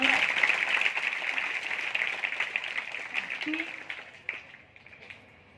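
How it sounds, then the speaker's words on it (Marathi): Schoolchildren and guests at a child-marriage awareness event in a secondary school clap together, loud at first and then thinning and fading away, with a voice briefly audible beneath the applause. "तर उद्या होणाऱ्या भावी सायंटिस्टसाठी तुम्ही सगळ्यांनी टाळ्या वाजवा"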